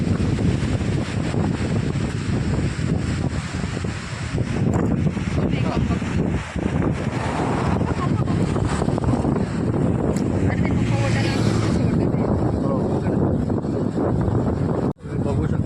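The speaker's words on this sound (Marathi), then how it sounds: "तुम्ही बघू शकता माझ्या पाठीमागे अतिशय उत्तम समुद्र किनारा." Strong wind roars steadily across the Harihareshwar seashore, buffeting the microphone, with a broad wash of surf beneath it and no clear pauses.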